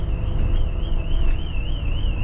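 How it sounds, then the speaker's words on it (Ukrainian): A bus alarm wails with a steady warbling siren tone, loud and continuous over low engine rumble and road noise inside the vehicle on route 24. "сигналка спрацювала"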